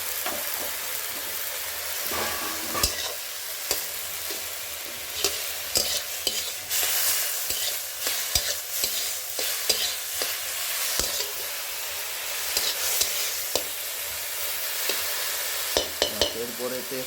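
Gima greens with salt and turmeric are stirred in a frying pan, with repeated scraping and clacking of the spoon over a constant close sizzle that continues throughout.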